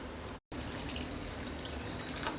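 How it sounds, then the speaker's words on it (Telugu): Water poured from a cup over a cup of sugar with cardamom in a pan to start a sweet syrup: a steady, close splashing pour with a brief break, then a continuous flow. "మునిగేదాకా నీళ్లు పోసుకుందాం"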